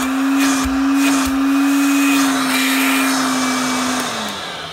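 A Dyson-era vacuum cleaner runs close and loud in a steady whine during a suction test, its motor pitch holding level before dipping slightly at the end, with a couple of brief thumps and no talking.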